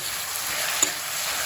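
Mushrooms frying in a pan give a steady, close broadband sizzle throughout, with one brief clack of a utensil partway through and no voices.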